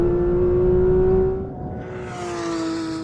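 Porsche 911 GT3 pulling away hard from a launch with ESC and traction control off: a loud, steady engine drone that fades slightly midway, then holds, with no talk.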